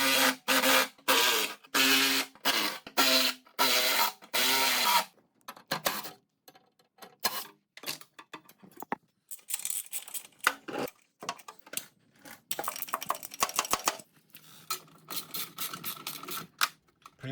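Fasteners being worked loose from the heat shield on a 2006 JCW Mini Cooper S, giving a run of sharp plastic clicks and taps in quick bursts. Scattered rattles and handling noises follow, close and fairly quiet, with no talk.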